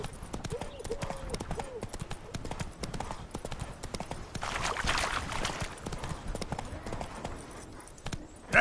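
Hooves of Roach, the horse in The Witcher 3: Heart of Stone, clip-clopping at a steady pace across the ground, close and continuous, along with ambient game sound and a swell of background noise midway.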